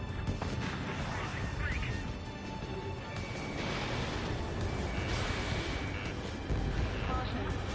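Anti-aircraft guns being destroyed in the combat flight game Ace Combat 7, with dense rumbling explosions and crashing blasts layered over continuous jet roar, loud and sustained throughout the clip.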